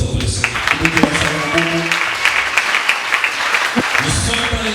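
A church congregation breaks into applause during a French-language sermon, a dense wash of claps with scattered voices mixed in, steady and fairly close throughout.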